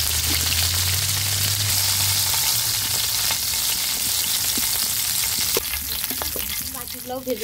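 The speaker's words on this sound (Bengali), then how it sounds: "এভাবে হালকা করে ভেজে দিতে হবে" Tilapia fish fries lightly in oil, a loud, steady sizzle close up with scattered spatula scrapes and clicks as the pieces are turned, a low hum underneath at the start.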